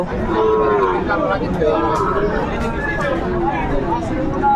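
Shahiwal bull calves and other cattle at a busy livestock market in Dinajpur low and moo. Crowd chatter and voices run steadily underneath.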